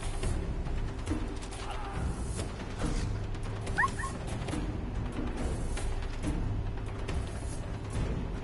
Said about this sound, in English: How is my dog in trouble?